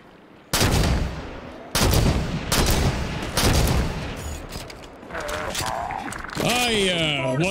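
Bursts of gunfire in Halo 5: Guardians, four loud volleys in separate clusters, followed by whooshing, sweeping weapon effects, with a voice talking at times.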